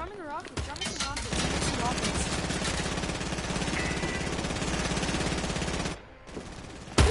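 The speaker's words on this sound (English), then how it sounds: "Who's shooting?" Rapid automatic gunfire in a video game rattles loud and continuous for several seconds, with a couple of sharp shots at the edges and players talking over it.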